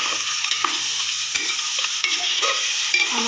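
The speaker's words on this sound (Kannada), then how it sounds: "ಸ್ವಲ್ಪ ಇದರಲ್ಲಿ ಮೊಟ್ಟೆನ ಫ್ರೈ ಮಾಡ್ಕೊಬೇಕು." Eggs coated in masala fry in a pressure cooker for egg biryani, a loud continuous close sizzle broken by repeated spoon scrapes and stirring knocks, no speech.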